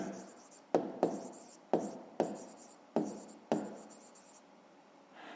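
Pen writing by hand on paper while working through a fifth-grade maths exercise: six distinct strokes and taps at a steady rhythm, each followed by scratchy scribbling, close and fairly quiet with no talk.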